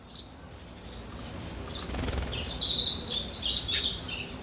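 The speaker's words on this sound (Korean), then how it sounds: "자, 새들 울음소리가 막 들리죠?" Mountain birds at a backyard feeding spot chirp and tweet in quick high bursts, growing busier toward the end, over a soft outdoor hum and a brief rustle.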